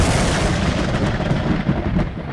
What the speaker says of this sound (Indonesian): Tiba-tiba petir berdentum.